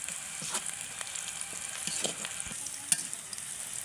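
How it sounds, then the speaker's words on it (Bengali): Chopped onions frying in a pan until brown, for a spicy beef lung bhuna, give a steady close crackling sizzle with scattered pops and one sharp spatter near the end, with no talking. "তো আরও একটু ভেজে নেব, এখনও ভাজা হয়নি"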